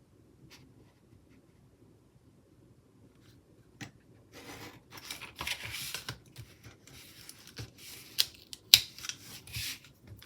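Scissors trim the excess off a paper planner sticker, making a run of soft, close snips and crinkly cuts that start after a few quiet seconds, with no one talking.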